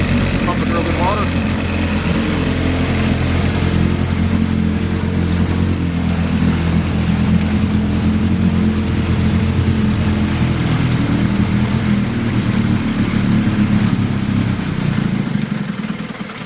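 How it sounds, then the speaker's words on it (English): A 1976 Evinrude 9.9 outboard motor in collector condition runs steadily after a cold start, a loud, continuous low drone that holds level throughout and dips slightly at the very end. "But as you can see, very nice running engine."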